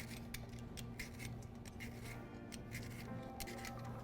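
A parsnip is peeled with a hand peeler while being turned, producing quick repeated scraping strokes in an irregular rhythm, close and soft, with no voices.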